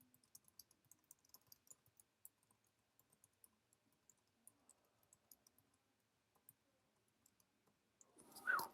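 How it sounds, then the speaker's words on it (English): Light, scattered clicks of typing on a computer keyboard, quiet and close, with irregular bursts of keystrokes and no talk, ending in a brief louder rustle. "I'll type this here"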